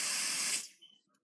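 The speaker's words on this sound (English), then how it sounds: "And there's the spray." A short, loud hiss of smoke-detector test aerosol sprayed at a smoke alarm's sensor, lasting about half a second before cutting off and tailing away into quiet, with no talking.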